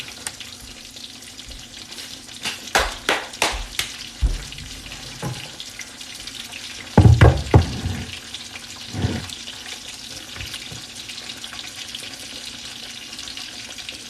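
Pork cutlets frying in vegetable oil give a steady background sizzle, broken by several sharp clattering bursts, a louder crackling flare-up midway and occasional pan handling.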